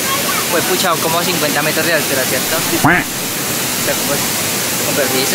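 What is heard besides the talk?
waterfall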